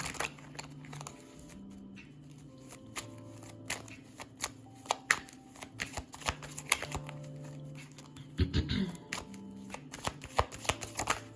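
A deck of playing cards being shuffled and handled by hand, with repeated short riffling and snapping bursts across the clip under a low steady hum, quiet and close.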